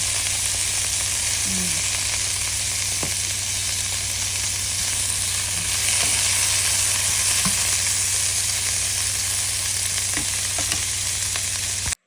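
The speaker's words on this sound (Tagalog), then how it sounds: "I-fry natin itong slice natin na tuna." Sliced tuna fries in a pan with a steady, dense hiss and crackle throughout, close and even in volume, with occasional faint clicks and taps.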